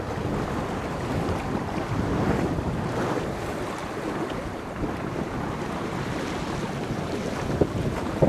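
A sailboat slices through open water off Lemmer, not sailing hard on the wind, with a constant rush of wind buffeting the microphone and waves splashing along the hull, steady and close throughout with no voices.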